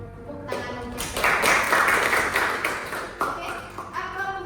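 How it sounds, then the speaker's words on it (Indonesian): Group clapping from a class breaks out and carries on steadily for several seconds, a dense patter of many hands that fades slightly toward the end. "Tepuk tangan untuk kita."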